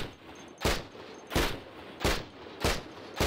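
Gunfire in the video game Cataclysm: Dark Days Ahead, five sharp shots spaced at even intervals of roughly two-thirds of a second, each a loud crack with a short tail over a quiet background.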